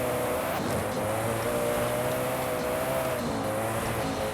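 A Koenigsegg One:1 hypercar in Forza Horizon 5 launching off the line with rear wheels struggling for grip, a continuous loud engine roar and tyre noise holding steady throughout with no voice over it.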